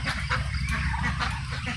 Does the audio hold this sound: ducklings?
yes